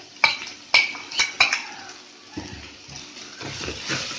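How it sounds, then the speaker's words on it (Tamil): Fried chicken being stirred into onion masala in a pan: four sharp metal clanks of a spoon against the pan, followed by softer scraping and shuffling stirs, close by with no voices. "இதையும் போட్டு நல்லா இதில் கிண்டி விடலாம்."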